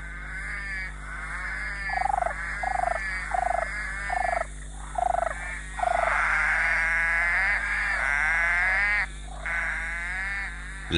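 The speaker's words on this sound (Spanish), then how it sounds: "La rana verde de ojos rojos gasta una cantidad enorme de energía intentando atraer pareja para aparearse." A red-eyed green tree frog calls for a mate in a tropical rainforest, giving a series of loud, nearby croaking pulses in uneven bursts over a steady low hum.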